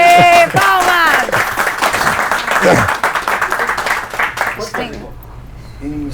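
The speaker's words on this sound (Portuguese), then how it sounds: "Ê, palmas!" A burst of crowd applause and cheering, loud at first then fading out, with voices speaking over it.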